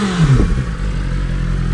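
A 2023 BMW S1000RR sport motorcycle engine, revving briefly up and back down, then settling into a steady loud idle close by.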